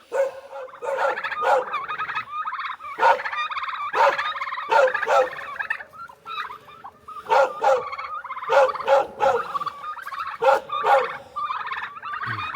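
Turkeys gobble repeatedly in loud, bubbling bursts, mixed with clucking chickens, close by and continuing without pause, in a Carpathian mountain farmyard.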